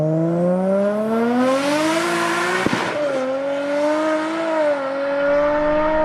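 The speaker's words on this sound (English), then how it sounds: "Observe the shifts of this 8-speed equipped R33." A Nissan R33 fitted with an 8-speed automatic revs hard and loud up close, its engine note climbing steadily before a sharp gear change cuts in midway, then pulling on again through the rest of the run.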